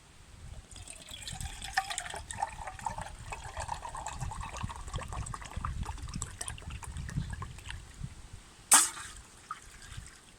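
Water poured into a pot at a woodland lunch camp stove, a steady liquid splashing and trickling that runs for several seconds, with a sharp clunk near the end.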